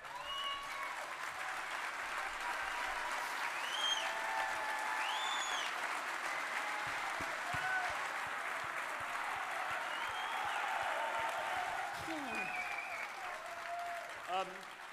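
A stadium crowd applauds staff and players at a West Ham farewell, a dense, sustained wash of clapping with scattered cheers and whistles rising over it, heard from within the crowd and fading slightly near the end.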